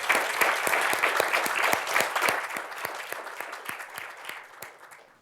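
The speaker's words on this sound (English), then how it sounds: "So big round of applause." Audience applause at a 3 Minute Thesis competition, dense sustained clapping from a sizable crowd that holds strong then gradually thins and fades over several seconds.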